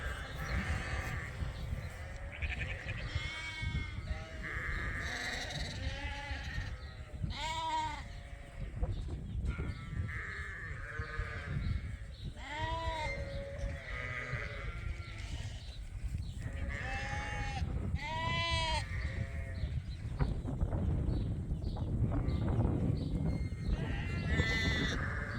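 Several sheep bleat repeatedly, some close and some farther off, overlapping calls over a continuous outdoor background.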